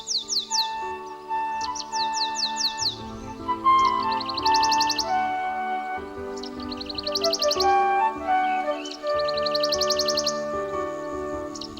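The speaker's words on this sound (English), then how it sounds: "These are European swallows and are an epitome of unity." Swallows chirp and twitter in quick, overlapping bursts of high notes, a lively chorus of several birds close by with no talking.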